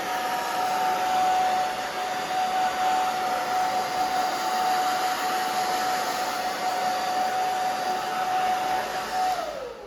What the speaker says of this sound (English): I'm just moving the blow dryer in my hands. Back and forth, back and forth.